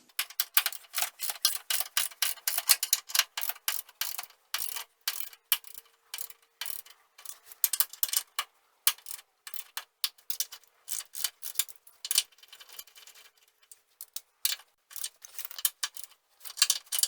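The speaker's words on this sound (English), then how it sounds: "now we can go ahead and torque everything to spec." Rapid ratcheting clicks from a torque wrench snug the bolts of a steering box brace on a Jeep Cherokee XJ, a close, steady, busy run of dry metallic ticks with no voices.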